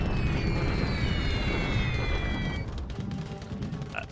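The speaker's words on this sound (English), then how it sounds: "My bombing goes in on Samarinda." A bombing raid on Samarinda in a Pacific war strategy game plays out as dense, rumbling explosions that roll together into a continuous boom. High whistling tones fall across it, then the blasts thin to scattered thuds.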